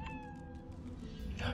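A cat meows in the fantasy role-playing game Divinity: Original Sin 2, a single drawn-out cry that rises and then trails off, soft and clear against a quiet background.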